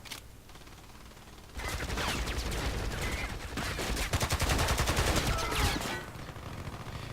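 An AKS-74u fires full auto in a video game, sounding as rapid, dense bursts of gunfire over several seconds. No speech is heard.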